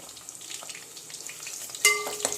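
Mustard seeds sizzle and crackle in hot oil for a sambar tempering, with small spits and pops, and a sharp clink of metal near the end, with no voices.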